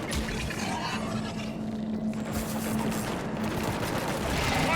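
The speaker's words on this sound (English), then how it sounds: "it's just shooting the ground" Enemy gunfire strikes the ground in Mass Effect 3 as a dense, continuous crackling patter. The impacts sound muffled and sit under a steady tonal hum.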